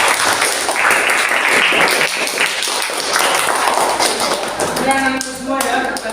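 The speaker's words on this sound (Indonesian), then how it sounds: "Tepuk tangan buat teman-teman" A classroom group claps together in a steady, dense burst of applause lasting several seconds, with some voices starting to talk near the end.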